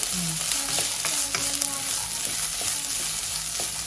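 Vegetables for a soup fry in about a spoon of oil while being stirred, a dense close sizzle broken by repeated scraping spoon strokes.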